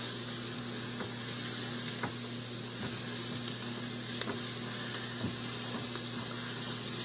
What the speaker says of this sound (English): We're going to let this saute together just a few minutes.